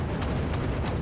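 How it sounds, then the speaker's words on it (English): Cannon shots firing in the artillery video game Forts, a rapid volley of booming blasts and bursts packed into about a second, loud and dense with no voices. "Wait, how many cannon shots did that fire?"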